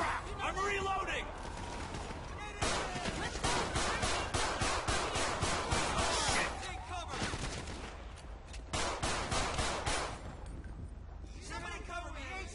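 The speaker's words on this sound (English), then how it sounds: "Suppressive fire coming up." Sustained suppressive gunfire in the police shooter game L.A. Cops, dense rapid bursts of automatic weapons filling the scene loudly and continuously, with brief pauses and radio voices heard over the shooting.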